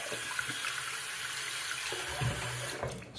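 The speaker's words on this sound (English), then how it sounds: "Let's go ahead and rinse the sink out here." Tap water runs steadily into a sink to rinse it out, with a constant close splashing rush that eases off near the end.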